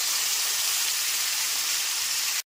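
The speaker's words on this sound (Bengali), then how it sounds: "এরপর এর মধ্যে আদা, কাঁচা লঙ্কা, টমেটোর পেস্টটা দিয়ে দিচ্ছি।" Ginger, green chili and tomato paste hitting hot oil with caramelized sugar in a pan for aloo dum: a loud, steady sizzling hiss that holds evenly for over two seconds, then cuts off abruptly.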